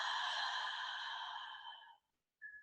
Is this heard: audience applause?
no